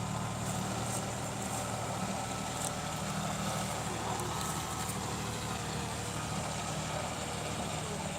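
A John Deere tractor engine labours in a sugarcane field while the tractor is stuck, giving a steady, close, continuous drone with a low rumbling undertone and no break.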